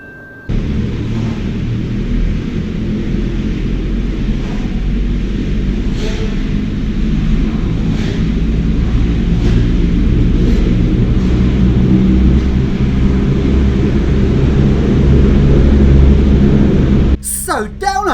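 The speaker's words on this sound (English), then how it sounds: "the cable car is stopped and here's the sound of it starting up." Cable car machinery in misty mountains near Skopje starting up after a stop, a steady loud low rumble and motor drone holding for most of the stretch, then cutting off abruptly near the end.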